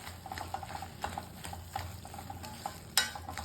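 Onion and tomato sautéing on a low flame for a chapathi side dish: a soft, quiet sizzle with repeated light spoon taps and scrapes and one sharper clink near the end.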